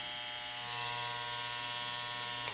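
An Andis Cordless T-Outliner LI hair trimmer runs close up with a steady, even electric buzz and no other sound, ending in a brief click.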